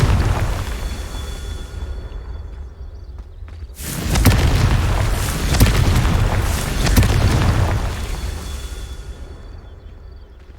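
Booming spell blast from Confringo in the video game Hogwarts Legacy, a sudden loud burst followed by a few more rumbling impacts over a steady low game backdrop, no voices.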